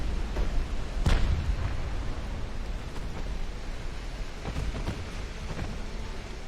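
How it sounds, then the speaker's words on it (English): A torpedo strikes an enemy cruiser during an Ultimate Admiral: Dreadnoughts naval battle, landing as one heavy, booming impact over a constant rumbling, rain-like wash of battle noise. "There's a torpedo hit for us on his cruiser"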